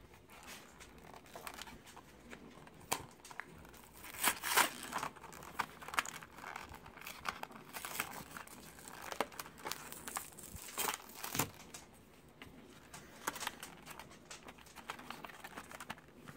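Opening the plastic clamshell packaging of a G.I. Joe 25th Anniversary Cobra Firefly toy, close crinkling, crackling and snapping of stiff plastic in irregular bursts with short pauses.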